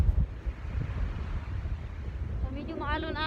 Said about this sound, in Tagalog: Medyo maalon-alon.